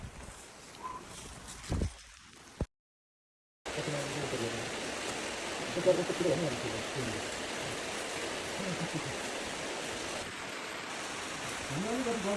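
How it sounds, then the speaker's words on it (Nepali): Steady rain falls in a hilly region along the road from Dharan to Taplejung, a dense, even hiss that runs almost continuously, broken only by one short dropout near the start. "जो भइरहेछ पानी पर्दैछ"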